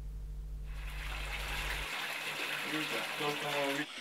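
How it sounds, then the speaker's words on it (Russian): Rusty water pouring from a hot water tap, a steady close gushing stream with a low hum at first, a voice speaking over the flow. "Такого цвета вода из горячего крана может литься часами"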